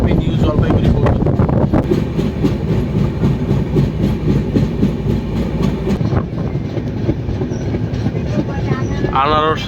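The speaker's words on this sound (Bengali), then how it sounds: "ট্রেন ছুটছে তার আপন গতিতে" A train on the Kolkata to New Jalpaiguri line, running late, rolls along at speed. The loud, close rumble has rhythmic clickety-clack from the wheels and wind buffeting, and it eases slightly near the end.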